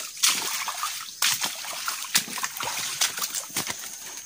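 Feet wade through a small, shallow, clear stream, giving a series of irregular splashes and sloshes roughly every half second to second, close and moderately loud over trickling water.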